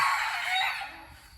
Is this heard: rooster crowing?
yes